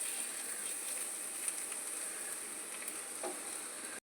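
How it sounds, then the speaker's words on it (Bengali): Garlic frying lightly in a pan over a low gas flame gives a steady, even sizzle from start to finish, with a few faint clicks and no talking. "হালকা রসুনটা একটু হালকা করে ভাজা হবে, হালকা ব্রাউন করে ভাজা হবে।"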